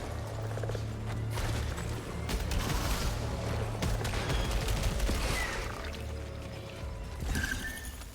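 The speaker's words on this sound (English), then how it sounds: "Oh, it's a turret." An automated turret in a video game fires a rapid, crackling stream of shots amid mechanical whirring and scattered impacts, sustained at moderate loudness with a brief sharper burst near the end.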